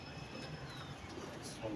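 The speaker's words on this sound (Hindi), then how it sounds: "खोल दे दरवाज़ा, ज़रा आने दे कबूतरों को बाहर।" Pigeons in a coop give soft, low coos beneath steady background noise, with a faint voice in the mix.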